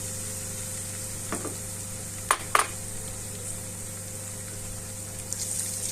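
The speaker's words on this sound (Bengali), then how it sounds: "মশলাটাকে ভালো করে ভেজে যখন মশলা থেকে তেল ছাড়তে শুরু করবে, এই পর্যায়ে আমি ফেটিয়ে রাখা যে টক দইটা এটা দিয়ে দিচ্ছি।" Spice paste frying in oil in a pan for Bengali doi katla, a katla fish curry, with whisked sour yogurt going in. A soft, steady sizzle runs throughout, broken by a few brief spoon scrapes and clinks.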